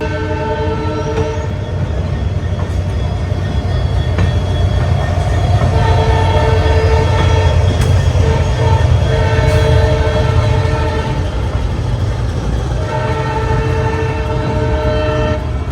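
Humsafar Express passenger train running on North Western Railway track, steady loud rumble and rail noise throughout, with occasional horn tones, no talk.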